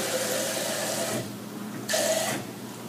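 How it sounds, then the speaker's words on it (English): Water runs steadily into a protein shake container for about a second, stops briefly, then pours again in a second close, moderately loud burst. "I'm going to add some water to get some good protein in."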